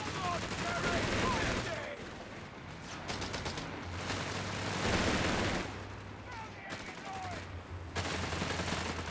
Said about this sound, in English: Bloody machine gun!